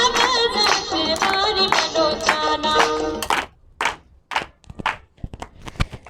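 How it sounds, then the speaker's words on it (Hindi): An audience at a Pakistani political rally applauds as a speaker is introduced. Sharp, scattered claps come through, at first under loud voices and music, then thinning into sparse individual claps. "बिलावल भुट्टो, आप सबकी भरपूर तालियों में।"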